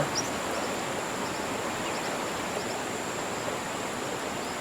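A waterfall on the Congo River in the fishing video game Fishing Planet gives a steady, unbroken rushing roar that stays at an even loudness throughout, with no voices.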